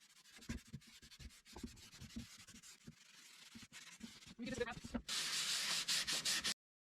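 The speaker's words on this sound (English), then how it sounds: "I'm going to rub this in and let it sit overnight before I finish it up" Hand rubbing of mineral oil and beeswax paste into a wooden wall-mounted triple candy dispenser: close, repeated scrubbing strokes in an uneven rhythm, growing into a denser, louder stretch of rubbing near the end.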